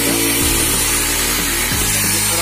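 Power drill boring small holes in a plate, a steady whining motor with pitch shifts as the bit loads and eases, close and loud without speech.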